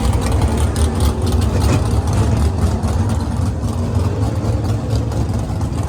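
A modern Mopar muscle car, Hellcat-type, runs loud and close at a car meet, its deep heavy engine note steady and dense throughout with no talking over it.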